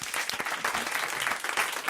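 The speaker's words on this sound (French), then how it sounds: "on vous applaudit" Loud, close applause from a television studio audience cheering a game winner, thick and continuous throughout the short burst.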